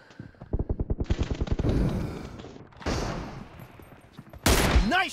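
Rapid bursts of video game gunfire, a fast rattling machine-gun run followed by separate loud volleys and a final sharp blast, close and punchy with no talk.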